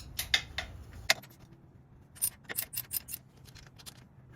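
A bolt on a gutter machine is worked loose with a tool, giving a few sharp metallic clicks and then a quick ratcheting series of ticks, close and fairly quiet with no talk.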